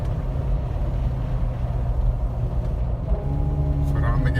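A 2015 Jeep JK running with the foot lifted off the accelerator, its engine giving a steady low rumble with a faint whine, heard close and continuous.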